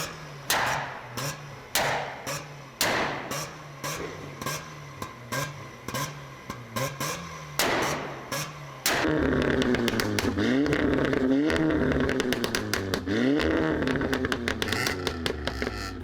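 A revving engine with rapid sharp pops and crackles from the exhaust, loud and close, the bangs coming in bursts before a sustained rising and falling drone.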